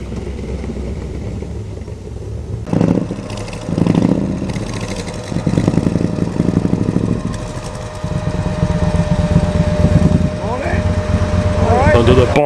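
A Triumph TR7 V8 with a 4.6-litre engine pulls into a car meet at a business-park cafe, its engine note rising and falling with a steady mechanical hum underneath and voices nearby.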